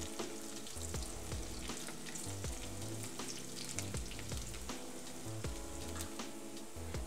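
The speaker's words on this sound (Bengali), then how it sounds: "পেঁয়াজ আর রসুনটা ভাজা হয়ে গেছে" Onion and garlic frying in oil for a Bengali radish-greens dish give a dense, steady sizzle that carries on without a break and is heard alone, with no talking.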